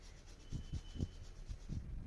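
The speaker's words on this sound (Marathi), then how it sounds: "आले स्वच्छ धुवून याप्रमाणे किसून घ्यायचे आहे किंवा तुम्ही अगदी बारीक कुटून घेतले ना तरी देखील चालेल" Fresh ginger is rubbed against a grater in quick, rhythmic rasping strokes, about six in a row, faint and close with no voices.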